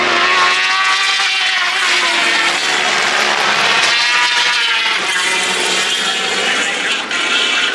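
Superbikes at the Isle of Man TT 2022 Superbike Race scream past close and loud, engines howling at high revs in a dense, continuous roar that shifts pitch as machines pass.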